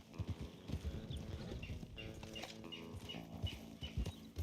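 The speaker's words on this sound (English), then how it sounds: "Come on, horses. Keep moving." Horse hooves clip-clop in the Red Dead Redemption 2 video game, a faint, steady rhythmic series of hoof beats over a soft background hum.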